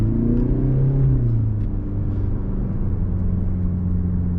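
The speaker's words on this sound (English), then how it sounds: "Now coming to acceleration of the car," A 2022 Mercedes-Benz C-Class accelerating, heard from inside as a steady low engine rumble with a rising then settling drone, loud and continuous, without talk.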